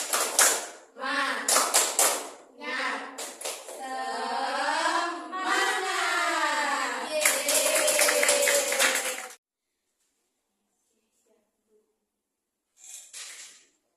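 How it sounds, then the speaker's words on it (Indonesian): A class of students stands and performs a rhythmic spirit clap, with sharp bursts of clapping and loud chanted group voices, then a pause and a brief final burst. "Tepuk semangat."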